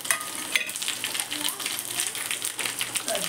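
Sesame seeds and curry leaves crackling in hot oil for a tempering, a dense close sizzle with sharp spattering pops, heard over a speaking voice.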